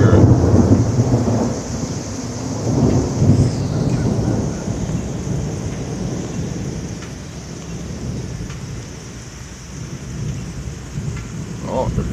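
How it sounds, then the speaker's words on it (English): Low thunder rumbles through a steady downpour during a thunderstorm, with rain pattering on surfaces throughout and the rumble strongest at the start. "the storm is here now, folks. Just trying to get some lightning and thunder."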